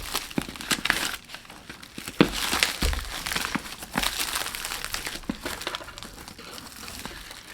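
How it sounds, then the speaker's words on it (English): Paper packaging on a mail parcel is ripped and crinkled open up close, with irregular crackling tears and rustles in bursts over several seconds. "Ooh, ripping the paper, but that's okay."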